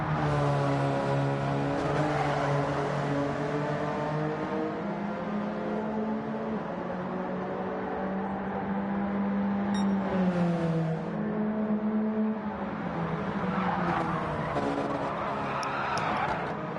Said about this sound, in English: And that is some tire screeching behind.